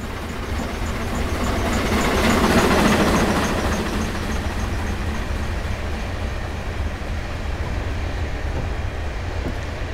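A GWR King class steam locomotive, number 6023, runs in the Train Simulator video game, giving a continuous heavy rumble and rolling rail noise that swells slightly early on, then holds steady for about ten seconds.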